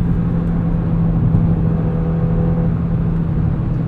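A 2022 Audi RS 3 with a 7-speed dual-clutch gearbox pulls hard from inside the cabin, a steady loud engine drone with a sustained low tone and road rumble throughout, no voices.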